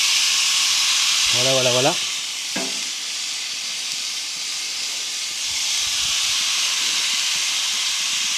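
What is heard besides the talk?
meat sizzling and hissing on a barbecue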